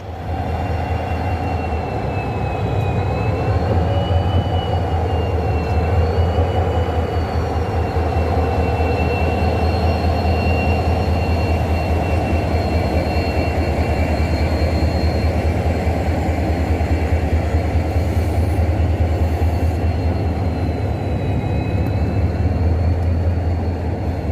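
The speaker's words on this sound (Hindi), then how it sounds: "रेक को शंट होने देते हैं" The 45-year-old Coromandel Express rake, running with old LHB coaches, being shunted, a steady loud rumble of rolling wheels with faint high tonal whines drifting over it, no voices.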